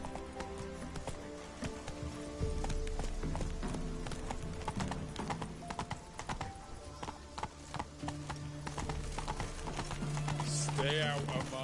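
Roach, a horse in The Witcher 3, gallops in a steady, rapid clip-clop of hooves close by, over a game soundtrack, with a brief whinny and speech at moments.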